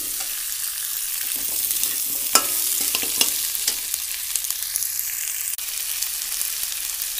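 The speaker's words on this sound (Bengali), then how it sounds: "এবার ওলকপি আর আলুটা দিয়ে দিচ্ছি, দিয়ে আমি একটু ভেজে নেব সামান্য।" Kohlrabi and potatoes fry with onions in a pan, giving a close, bright, steady sizzle broken by the scrape and clatter of stirring, with no talking.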